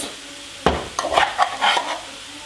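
Minced meat frying and being stirred in a pan for a spinach-filled hand-rolled börek, a few scraping stirs over a soft sizzle, close and fairly loud, with no talking.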